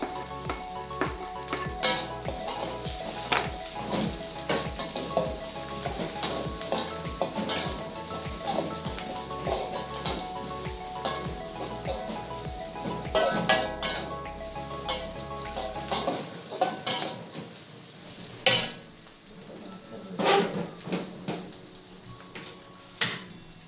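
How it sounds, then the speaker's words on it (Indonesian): Shallots sauté in hot oil with a steady sizzle and rhythmic stirring for about sixteen seconds, then the frying quiets and only occasional clinks and scrapes remain. "Minyaknya sudah panas, kita tumis bawangnya ya."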